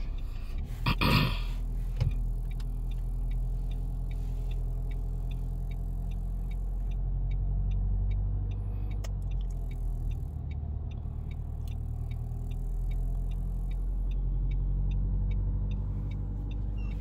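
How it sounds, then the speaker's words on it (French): A manual-transmission car's engine hums steadily at low revs as the clutch is eased out during a driving lesson, a deep continuous drone with a brief mechanical clunk near the start. "on va accélérer légèrement, tout en lâchant légèrement l'embrayage"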